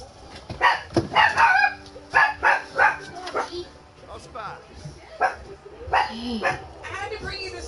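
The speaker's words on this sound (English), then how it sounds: "I had to bring you the smallest puppy I've ever seen in my life." A tiny chihuahua puppy gives a string of high, thin yips and whimpers in short bursts, close by, with a person talking between and over the cries.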